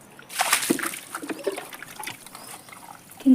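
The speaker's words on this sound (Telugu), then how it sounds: "మనం ఫస్ట్ కడవలతో దడ పోసి తర్వాత మళ్ళా నీళ్ళు పోసుకుంటా" Water poured from clay pots in a village yard splashes and sloshes in a run of uneven bursts, close and fairly loud, with trickling between the pours.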